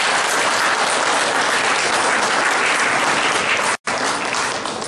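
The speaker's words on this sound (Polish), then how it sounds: "Poproszę uprzejmie o wielkie brawa." Dense, steady applause from an audience at the opening of an art exhibition, many hands clapping together and filling the room, with a brief dropout near the end before the clapping resumes.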